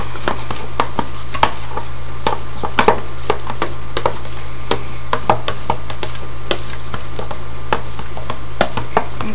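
Lemon being stirred into Alfredo sauce for asparagus and onion pasta: repeated light clinks and scrapes of a utensil against the pan, irregularly spaced, over a steady low hum.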